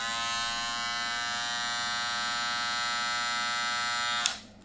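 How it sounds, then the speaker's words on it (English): A brushed-motor electric hair clipper runs with a steady, close, harmonic buzz for about four seconds before it is switched off and winds down abruptly. "This is the clipper."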